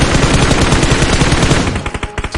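Automatic gunfire in the mobile battle royale game PUBG Mobile, loud rapid bursts of shots in dense succession, slowing into separate cracks near the end, with no speech over it.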